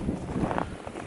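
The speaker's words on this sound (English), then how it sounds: "it's quite windy out here" Brief wind blowing outdoors on a farm, a short rough rushing buffet against the microphone, moderately loud with no talking.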